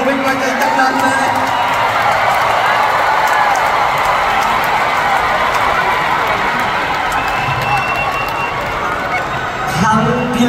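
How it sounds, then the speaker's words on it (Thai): A large concert crowd applauds and cheers steadily for a singer, a dense, continuous wash of clapping mixed with shouts and whoops throughout. "ขอเสียงปรบมือเป็นกำลังใจจังนั้นเลย"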